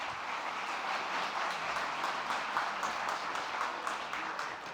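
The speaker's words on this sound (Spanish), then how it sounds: "Le pido un fuerte aplauso al doctor Chanis." Audience applause for a doctor at a hospital scientific conference, a sustained, moderately loud wash of clapping that swells slightly in the middle and tapers near the end.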